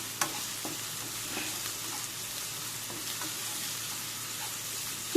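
Chopped onion sautéing in coconut oil, a steady close sizzle with faint spoon taps as it is stirred, continuous and even throughout with no talking.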